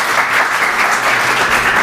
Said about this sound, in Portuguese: professor Cleiton, uma salva de palmas mais uma vez, gente.